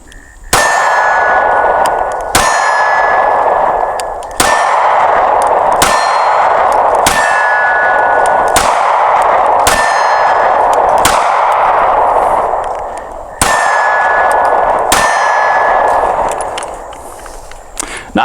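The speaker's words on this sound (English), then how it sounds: "We're about 7 yards away, shooting some Winchester white box. Let's see how she shoots. First 10 rounds." A SCCY CPX-2 9mm pistol fires Winchester white box ammunition at an indoor range from about 7 yards, giving roughly ten sharp, loud, ringing shots at uneven intervals of one to two seconds, with no talking.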